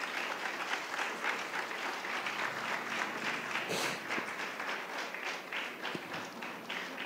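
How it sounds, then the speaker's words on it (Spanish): A church congregation gives the Lord a strong round of applause, dense steady clapping filling the room for several seconds, with a few faint voices underneath. "Denle un fuerte aplauso al Señor"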